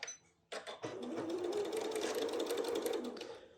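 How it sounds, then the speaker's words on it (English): A sewing machine stitches a French seam on a cosmetic makeup bag, starting after a brief pause and then running steadily and close up for about three seconds without any talk. "I'm just going to move it up to where my blue one was, and I'm going to sew"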